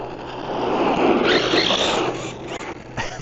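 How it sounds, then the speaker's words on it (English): Drivetrain of a ZD Racing Pirates 3 RC car, a loud grinding gear mesh whine with a rough raspy texture, rising and falling in a continuous close burst of a few seconds. "the gear mesh on this thing is so loud"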